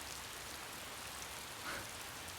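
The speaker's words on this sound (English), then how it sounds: "Rain poured down their faces." Steady rain falls in a scene from the game Hakuoki Edo Blossoms, a dense broadband hiss that continues for the whole clip with no voices.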